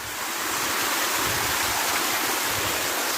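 Steady broadband rush of flowing water at a spring-fed water source on a mountain hike near Los Gigantes, Tenerife, loud and continuous with no voices.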